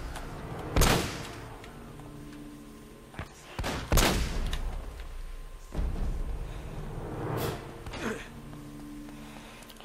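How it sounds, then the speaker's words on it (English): Gunfire in the video game Uncharted: Drake's Fortune, with a shotgun among the weapons: several loud, sharp shots spread irregularly across the stretch over a busy game soundscape, with no talk over them. "Stop shooting me for a second while I hide."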